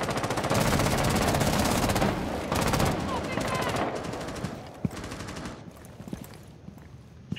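Shotgun blasts from Rainbow Six Siege in a theme park team deathmatch, heavy continuous gunfire and repeated loud shots dense at first, thinning into scattered reports toward the end.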